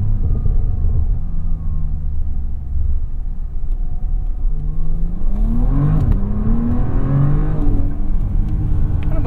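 A Bentley W-12 engine revs up as it accelerates, rising in pitch and growling steadily, close and loud with no talking.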